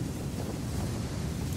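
Strong wind blows steadily outdoors, a dense, rushing roar with buffeting gusts against the microphone and no voices.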